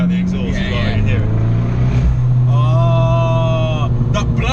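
Engine and exhaust of a Fiat Abarth 595 tuned to about 250 bhp, with a rising turbo whistle, a blow-off flutter and crackling exhaust pops, loud and close under excited talk.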